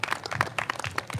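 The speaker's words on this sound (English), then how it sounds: "please give them a round of applause" Audience at a Halloween community health walk in Garden Grove applauding, a short burst of dense, fast clapping from a crowd, moderately loud and without talk.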